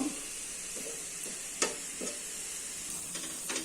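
Grated carrots for carrot halwa cooking in a pan give a soft, steady sizzle with a few sharp stirring scrapes and clicks, faint and close with no talking.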